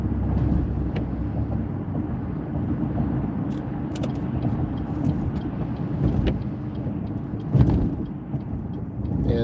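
A car drives through morning rush-hour traffic, its steady engine and road rumble continuous and close, with a sharper passing noise near the end and no talk.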